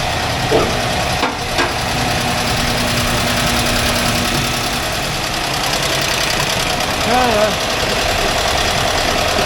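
Air-cooled engine of a 1982 VW Vanagon Westfalia, freshly tuned during restoration, runs steadily at a loud, even drone with a constant mechanical clatter throughout, close by and heard alone.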